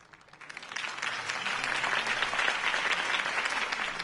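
Applause from a crowd after a campaign speech in the Batman Telltale series video game swells quickly and holds as a steady, dense wash of clapping, without voices.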